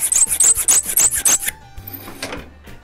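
A hand file scrapes rhythmically across the steel edge of a homemade beading tool cutter, about eight quick close strokes, then stops and leaves quieter shop sounds.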